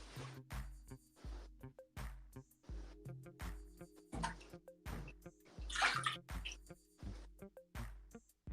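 Hot water runs from a tap during a homebrew session for a Mexican hot chocolate stout, a faint, steady stream with regular pulsing knocks through the pipes and no one speaking.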